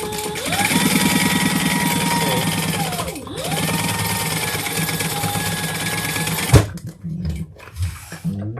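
Domestic sewing machine stitching down the sides of a fabric piece, a steady mechanical whir with rapid needle chatter that pauses briefly, resumes, then stops, followed by a few small clunks.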